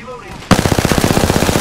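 Automatic gunfire in Apex Legends, a rapid loud burst of evenly spaced shots that starts abruptly after a brief quiet lead-in and continues steadily to the end.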